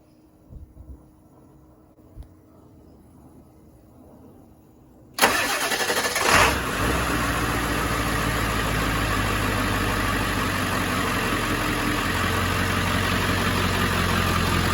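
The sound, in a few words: van engine starting and idling on new Odyssey batteries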